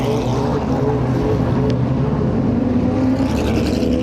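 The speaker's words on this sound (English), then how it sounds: "look at these beautiful GT3 Cup cars" Porsche GT3 Cup race cars roll out onto the track at the Atlanta SpeedTour, their engines a steady, moderately loud drone and hum that swells slightly near the end.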